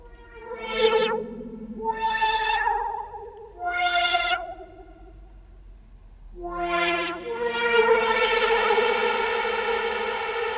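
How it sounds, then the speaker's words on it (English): Long wailing, siren-like tones rise and fall one after another, each trailing into a heavy reverberant wash that swells and lingers by the end as mixer automation raises the reverb send. "there's that reverb send going up, massive amounts of reverb"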